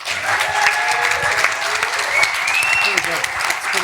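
An audience at an arts talk claps steadily to coax a guest musician into playing, a full, continuous round of applause with a few voices rising over it.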